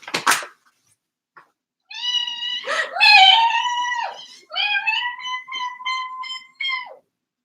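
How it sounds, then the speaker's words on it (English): Pet cat Fleur meowing close by in a series of long, drawn-out, tonal meows, some rising and falling, with short pauses between calls and no talking. "Fleur is my cat"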